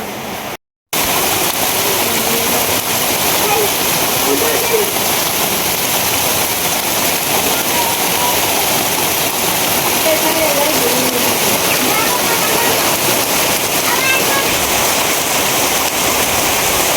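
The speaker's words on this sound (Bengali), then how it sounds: "আবারও বেশি বৃষ্টি শুরু হয়ে গেছে।" Heavy rain pouring down in a continuous loud, dense roar that starts after a brief silent moment and holds steady throughout.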